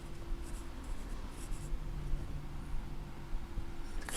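A pencil makes a witness mark on timber architrave being fitted around a door frame, giving a close, soft scratchy scribbling with a few short strokes, alone and quiet.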